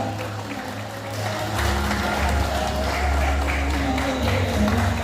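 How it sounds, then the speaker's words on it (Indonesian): A crowd applauds steadily, clapping growing fuller after a moment and continuing as a dense, even wash of hands. "Kita berikan tepuk tangan para tamu undangan"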